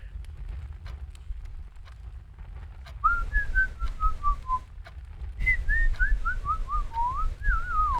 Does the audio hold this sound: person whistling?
yes